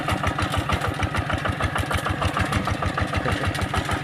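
Walking tractor engine idling steadily on a dry rice field, a rapid regular low thumping pulse with a broad mechanical clatter, close and continuous with no talk.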